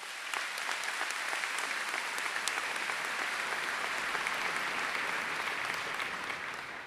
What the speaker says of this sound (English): So you can clap it up there too.